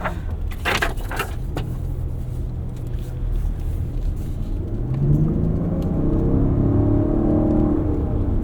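A 2024 Lexus TX 550h+ plug-in hybrid accelerates on the road, a smooth low rumble and whir that swells in pitch and loudness from inside the cabin, with a few brief knocks early on.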